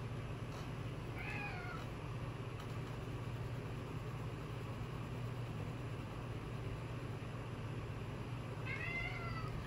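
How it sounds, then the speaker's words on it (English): A small cat meows faintly twice, once early and once near the end, over a steady low hum. "And I hear a little kitty."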